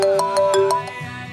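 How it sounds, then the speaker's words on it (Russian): Phone ringtone signalling an incoming call, a bright repeating electronic melody with regular pulses, close and fairly loud, sounding on its own before the call is answered. "О, наш Мугрук звонит"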